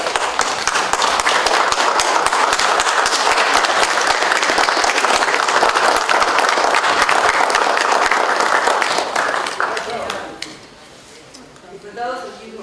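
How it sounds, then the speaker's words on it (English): A large standing audience applauds at a 2015 commemorative event on the 1965 Alabama voting rights campaign, with dense sustained clapping for about ten seconds before it thins and fades out. "I just want us all to stand and applaud all of these outstanding warriors"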